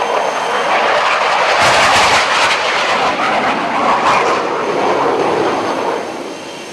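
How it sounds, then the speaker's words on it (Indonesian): Jet aircraft engines of the plane carrying Jordan's King Abdullah II run before departure, a loud, steady, close roar that swells and holds, then eases slightly near the end, with no talking. "Raja Abdullah II sudah memasuki pesawat pemirsa dan nampaknya siap untuk berangkat sesaat lagi."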